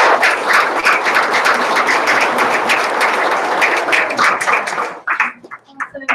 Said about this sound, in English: Another round of applause for Jill, please.